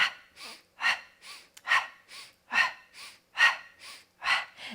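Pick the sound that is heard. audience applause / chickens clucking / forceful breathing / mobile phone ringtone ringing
forceful breathing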